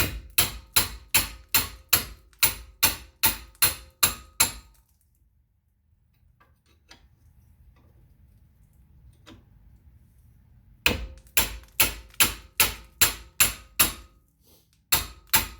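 Hammer blows strike a brake caliper in rapid, evenly spaced metallic bursts, close and loud, then a quiet pause of faint shuffling before another run of rhythmic strikes and a final single hit.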